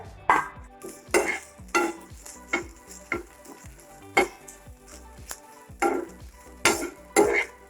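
A spoon stirs and scrapes grated coconut in coconut oil in a pan while roasting it for a chicken curry. Close, uneven scraping strokes repeat several times against the metal, and no one speaks.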